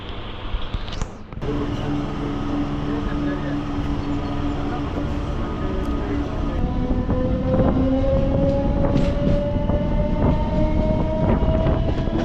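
A MEMU passenger train rumbles steadily nearby, with rail clatter and a long sustained tonal whine, as if slowing toward a halt at Thiruvalam station.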